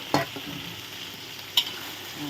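Pea eggplants stir-fried in a pan for catfish red curry: a steady low sizzle broken by two sharp scrapes of the spatula.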